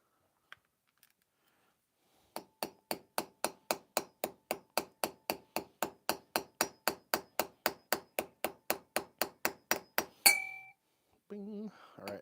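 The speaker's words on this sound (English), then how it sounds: "And then I think I'll use a little hammer." A small hammer taps metal in a steady run of about thirty bright, ringing strikes, close and evenly paced, followed by a brief metallic ring.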